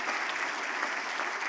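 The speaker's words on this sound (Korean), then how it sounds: "한번 우리 두 사람 한번 박수로 격려해 주시면 감사하겠습니다." A church congregation in a Korean church in Orange County applauds two newly baptized people, a short, even patter of clapping heard at moderate distance.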